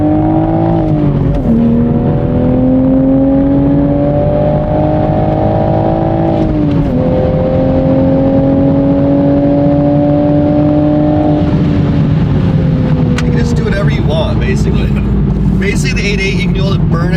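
Toyota A90 Supra with a swapped Ford 8.8 limited-slip differential, its engine droning steadily from inside the cabin while it drives, pitch climbing and dropping through gear shifts, with people talking over it.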